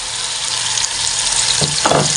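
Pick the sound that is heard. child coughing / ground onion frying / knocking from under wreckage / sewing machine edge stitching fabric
ground onion frying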